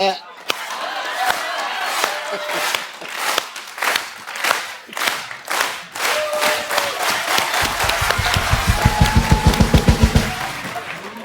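A studio audience at a television comedy show claps, first in scattered bursts and then in a steady run of rhythmic hand claps, with voices talking underneath.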